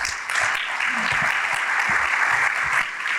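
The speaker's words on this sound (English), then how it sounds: "Yes, give them a round of applause." A luncheon crowd claps for a school district, dense, loud applause that rises quickly and carries on evenly for a few seconds with no talking over it.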